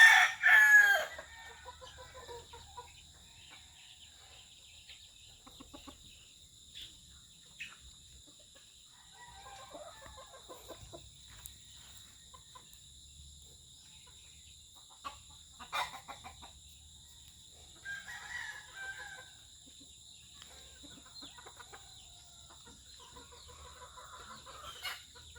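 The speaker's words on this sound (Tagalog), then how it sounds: "Napatuka na lahat yung mga manok." A rooster crows loudly at the start, followed by scattered clucking and softer calls from several chickens against a quiet background.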